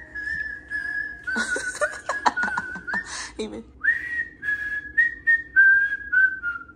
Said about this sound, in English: they been in here having a whistling competition and birds.